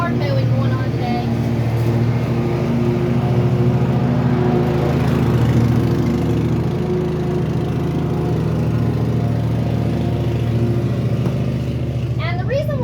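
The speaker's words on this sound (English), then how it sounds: "we got yard mowing going on today." A lawn mower runs steadily nearby while a yard is mowed, a loud continuous engine drone that holds throughout without pauses.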